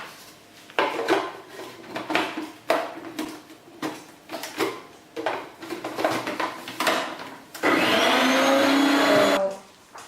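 A food processor grinds almonds into smooth almond butter, running in loud choppy bursts that stop and start, then a sustained whirring stretch near the end.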